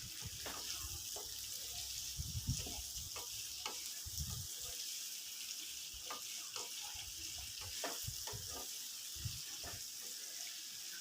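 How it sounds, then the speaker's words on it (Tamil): Chopped raw mango sautéing in oil in a pan, a soft hiss of frying with scattered stirring scrapes and thumps, fairly quiet and close, with no talking. "நல்லா வதக்கி விட்டுக்குங்க."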